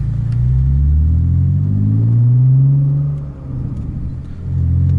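A manual transmission car pulls away in first gear over a speed bump, its engine rumbling close and loud as the revs climb, dip briefly, then rise again.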